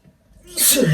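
A single loud, close sneeze bursts out after a brief quiet intake, during a casual spoken sports discussion.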